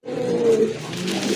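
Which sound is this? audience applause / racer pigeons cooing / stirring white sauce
racer pigeons cooing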